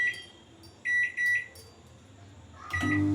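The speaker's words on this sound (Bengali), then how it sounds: "এই যে আমি এবার মাইক্রোওয়েভ করব।" Microwave oven steaming an egg dish, with a low hum and a few loud electronic beeps close by, followed by a steady drone as the oven starts running.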